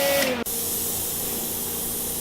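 A plasma cutter slicing through metal, a steady loud hiss with a brief dip near the start, close and continuous, without talk.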